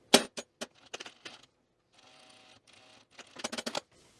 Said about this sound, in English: I'm just going to use a regular sewing machine here